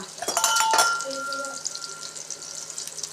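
Mutton kothukari vada fries and sizzles in a pan, with a few metal clinks at the start and a voice talking over the steady crackle.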